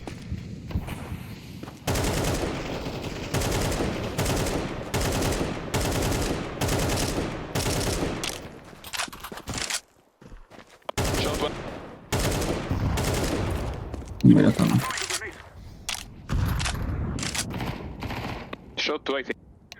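Gunfire from Counter-Strike 2, long rapid automatic bursts and sharp shots that repeat loud and close for most of the stretch, with a brief silent gap and a voice talking at times.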